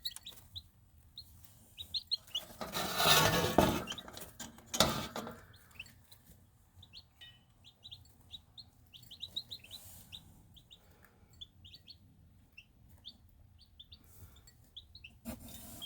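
Baby chicks peep in a brooder, high, quick chirps repeating steadily throughout, close by, with a couple of louder rustling bursts from movement early on.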